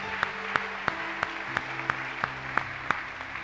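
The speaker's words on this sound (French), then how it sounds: "Acclamez d'abord pour ce passage magnifique." A church congregation claps in a steady, even rhythm, sharp regular hand-claps at roughly a third of a second apart over a faint room background.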